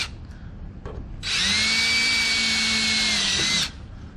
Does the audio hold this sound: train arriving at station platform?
no